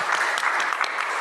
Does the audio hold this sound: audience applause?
yes